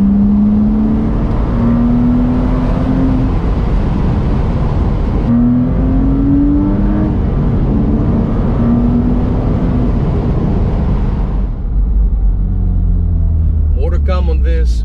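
A 2006 Porsche Boxster S (987) with a modified exhaust revs loudly, its engine note rising and falling in repeated pulls, a steady close rumble throughout before easing off near the end.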